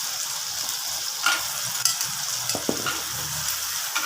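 Eggplant sizzles steadily in a hot pan while a utensil stirs it, with a few sharp scrapes and clicks against the pan.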